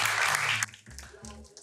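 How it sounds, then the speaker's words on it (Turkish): Applause from a Turkish late-night talk show studio audience, a dense burst of clapping that breaks off sharply partway through and gives way to voices and clinking sounds. "alkışlıyoruz"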